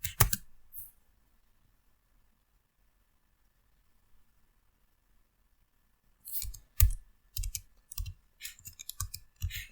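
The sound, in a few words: typing code on a computer keyboard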